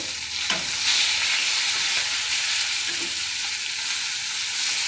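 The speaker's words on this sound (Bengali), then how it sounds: "আমার মাছ প্রায় ভাজা হয়ে গেছে, এবার আমি নামিয়ে নেব।" Fish fries in hot oil in a pan, a continuous bright hissing sizzle that holds fairly level throughout, with a faint knock near the start and no talking.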